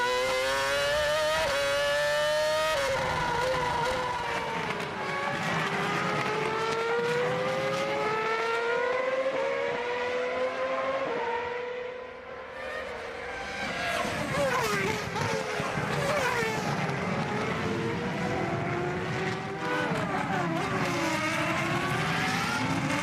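A Formula One car at the American Grand Prix at Indianapolis in the F1 2006 video game screams through repeated gear shifts, with a sharp drop under braking before revving back up, loud and continuous.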